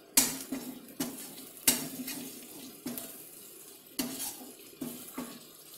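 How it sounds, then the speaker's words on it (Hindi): A spoon scrapes and clinks against a kadai while spices for kadai paneer are mixed, giving a series of sharp metallic strikes at irregular intervals over a quiet background hiss. "अब हम इन सारे मसालों को अच्छे से मिक्सअप कर लेंगे"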